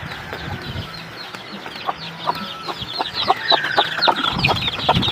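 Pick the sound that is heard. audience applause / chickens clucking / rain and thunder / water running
chickens clucking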